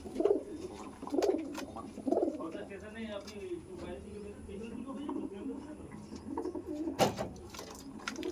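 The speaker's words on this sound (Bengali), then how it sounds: "এটা ছিল মেল পায়রা" Andhra pigeons coo in soft, repeated rounded calls, with a male bird close by and people talking over the calls throughout.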